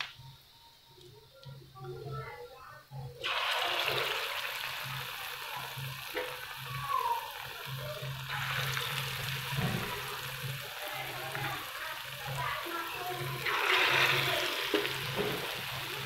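Potato and egg chops sizzle and bubble in hot white oil on a tawa, a steady frying hiss that swells louder after the pieces go in, with brief talk in the background.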